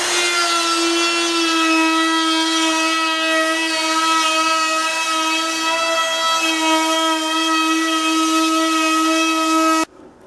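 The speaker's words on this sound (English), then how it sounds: "that's a chamfer router bit. And that's the router he's using." A router fitted with a chamfer bit cuts the front edge of a 1x6 wooden window sill, giving a loud, steady high-pitched whine that holds for about ten seconds before cutting off abruptly.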